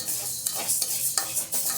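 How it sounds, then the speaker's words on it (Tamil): Urad dal roasts dry in a pan while a spatula stirs it, giving close, scraping, rustling strokes in an irregular rhythm over a soft sizzle, with no talk. "இதுவும் நல்லா வறுக்கணும்"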